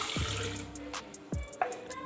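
Water being poured into a vessel for mulberry (shahtoot) sharbat, heard as a few quiet splashes and gurgles with light drips and taps between them, with no talking.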